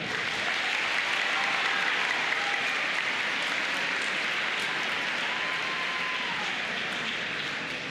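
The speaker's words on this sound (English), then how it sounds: "Give yourself a round of applause for that" Audience applause at an assembly, a steady wash of many hands clapping that fills the whole stretch evenly at moderate loudness, with no voices standing out.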